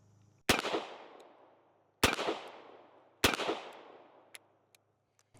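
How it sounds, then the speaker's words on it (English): Three loud, sharp revolver shots from a Korth Ranger firing .38 Special ring out at a target range, spaced about a second and a half apart, each decaying with a long echoing tail. "I'm shooting dead center of the target right now"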